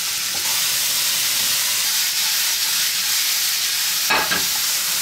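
Shiitake and oyster mushrooms sizzle steadily in hot olive oil with garlic, a continuous broad hiss with a brief louder crackle near the end and no talking.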